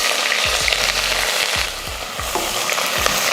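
Two large onions sliced lengthwise fry in hot oil with curry leaves for a one-pot rice dish, a steady close sizzle broken by several scraping stirs of a spoon against the pan.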